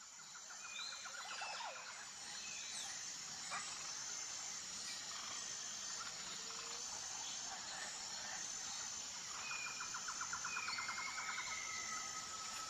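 A cheetah cub makes high, bird-like chirping calls in two short rapid bursts, one at the start and one near the end, over a steady hissing outdoor background.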